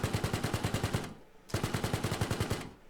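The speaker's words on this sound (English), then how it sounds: "I wonder if we can take that out with the machine gun." An LAV-25's machine gun fires two rapid bursts in Arma Reforger, each a rhythmic string of loud, punchy rounds lasting about a second, separated by a brief pause.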